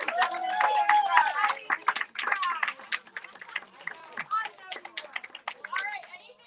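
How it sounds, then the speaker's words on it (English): An audience gives a round of applause: scattered, uneven clapping from a modest crowd, with a few excited voices and shouts mixed in, fading and thinning toward the end. "Give her a round of applause, ladies and gentlemen."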